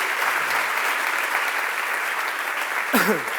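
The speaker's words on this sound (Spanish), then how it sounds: "Bravo, un aplauso, sí señor, para eso." Steady applause from an audience at a book presentation for Carla Antonelli's memoirs, a dense, even wash of clapping that holds throughout, with a short bump of noise near the end.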